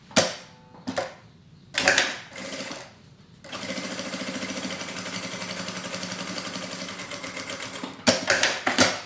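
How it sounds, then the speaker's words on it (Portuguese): Domestic sewing machine running a short safety seam along fabric on a diaper and wet-wipe holder, with brief start-stop bursts first, then a steady mechanical whirring run of several seconds, close and fairly loud, no talk. "Eu vou passar uma costurinha de segurança desse lado e outra do outro lado."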